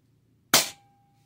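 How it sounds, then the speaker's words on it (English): Single sharp shot from an Avenger .25 air rifle fitted with a KILL-CAN suppressor, fired indoors: one brief crisp crack that decays quickly, close and alone in near silence. "So y'all tell me if this KILL-CAN makes a difference. I'm in the house. I'm shooting in the safe direction. This is a 25 Avenger."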